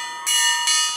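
Small bell struck twice in quick succession, each a bright, ringing metallic tone with a short decay, close and fairly loud, with no talk.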